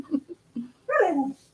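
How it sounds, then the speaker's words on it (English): Dogs whimper and whine at close range, two short soft yelps followed by a longer rising and falling whine, loud in the quiet. "now the dogs have decided that it's time for us to hang out with them"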